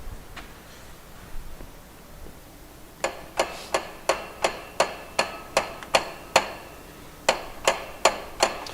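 A 3-pound hammer taps on the crank pulley of a BMW 2002 engine during a K24 swap, producing a steady series of sharp metallic knocks, about a dozen evenly spaced strikes with a short pause, close and clear without talk.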